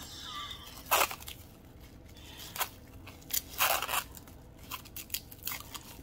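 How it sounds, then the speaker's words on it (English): Plastic packaging from a Temu haul being unwrapped, heard as a few sharp crinkling and tearing bursts spread across a quiet room, close to the mic, with no talking. "I hope that doesn't fly all over when I unwrap all of this."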